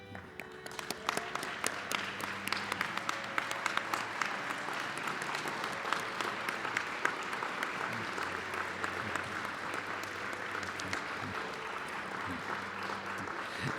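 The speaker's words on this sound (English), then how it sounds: "Please join as we stand and give these graduates a well-deserved round of applause." A standing audience applauds graduates at a college commencement, sustained even clapping from a large crowd, moderately distant and continuing steadily for the whole stretch.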